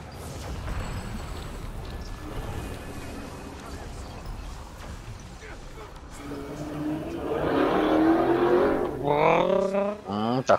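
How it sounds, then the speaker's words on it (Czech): An old Škoda car with a hole in its exhaust revs up, a rough, rising engine roar building over the last few seconds after a stretch of background noise and talk. "Díra ve výfuku."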